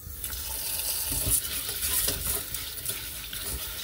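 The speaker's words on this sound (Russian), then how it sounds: "вначале гречку нужно промыть хорошенько" Buckwheat is rinsed under running water in a home kitchen, a continuous splashing wash with grains stirred and swished by hand, close and fairly quiet with no talking.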